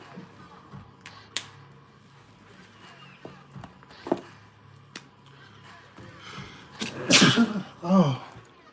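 A single sharp sneeze lands near the end after quiet clicks and shuffling, followed by a brief breathy aftersound.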